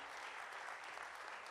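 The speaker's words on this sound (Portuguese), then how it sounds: "Uma salva de palmas para o Senhor." A church congregation applauding together during a worship service, a steady dense wash of clapping lasting the whole moment with no voices rising above it.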